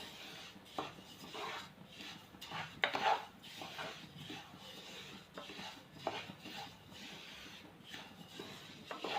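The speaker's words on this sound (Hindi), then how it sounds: "लगातार चलाते जाएं इसको।" A spoon scrapes and clinks against a pan while a milk cream (malai) mixture is stirred continuously, soft irregular scraping strokes with occasional metallic taps, close and quiet.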